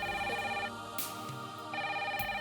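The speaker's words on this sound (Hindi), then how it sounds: "फोन आ रहा है" A telephone rings in a Hindi TV serial scene, two steady, buzzing electronic bursts separated by a short pause, fairly close and clear.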